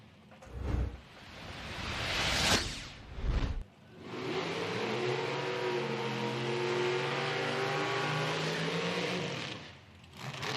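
Super Rod drag racing car making a quarter-mile run at an IHRA Outlaw Nitro Series event in Hebron, Ohio, with throttle stops: brief revs and bursts, then a loud sustained engine roar that carries for several seconds before fading.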